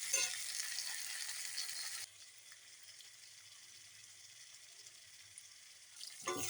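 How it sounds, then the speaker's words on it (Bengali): Potatoes fry in a pan over a tempering of garlic, bay leaf, cumin and dried chilli, giving a soft, faint sizzle that is a bit stronger for the first two seconds, then settles lower, with a brief clatter at the end. "আলুগুলো ভাজা হোক।"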